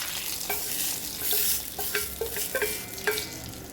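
Spices for Chettinad rasam sizzle in a pan, broken by the scrape and clack of a spoon stirring at irregular intervals. The cooking sounds are close and alone, with no voices.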